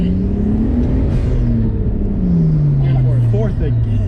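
Stock Nissan Skyline R32 GTST accelerating from inside the cabin, a loud steady engine drone whose pitch rises smoothly, dips at a shift and climbs again, with road rumble beneath.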